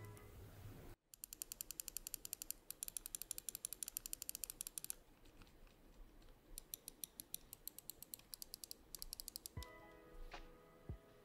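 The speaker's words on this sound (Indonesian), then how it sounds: "switchnya juga dia udah pakai Huano pula dengan lifetime di 5 juta kali klik" Rapid, crisp clicking from a lightweight Sades Kaze budget mouse fitted with Huano switches, in fast, nearly continuous bursts up close with brief pauses.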